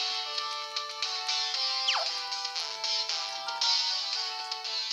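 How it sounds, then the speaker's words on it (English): A mobile phone ringtone goes off during a Pokémon Black game session, a steady repeating electronic melody of bright tones over game music, moderately loud throughout. "That's my phone, sorry about that."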